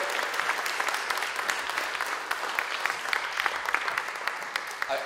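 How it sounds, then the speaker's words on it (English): An audience at a Students' Union enterprise awards ceremony claps for Joanna Brophy, dense steady applause filling the hall throughout without a break. "I want to have a special round of applause and thanks for Joanna Brophy here with the Students' Union"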